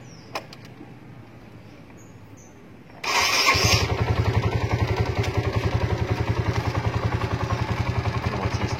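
A Honda CS1 motorcycle engine cranks and catches, then settles into a loud, steady, slightly rough idle with a regular pulsing beat.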